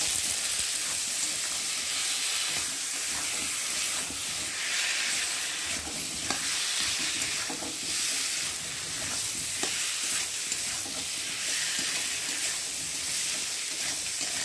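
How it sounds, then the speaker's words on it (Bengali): A paste of ginger, cumin, onion and tomato fries with potatoes for a katla fish curry, giving a loud continuous sizzle and hiss with occasional stirring, close up and without voices. "আদা বাটা জিরে বাটা পেঁয়াজ বাটা টমেটো দিয়ে মশলাটা আলুর সাথে ভালো করে কষিয়ে নিই"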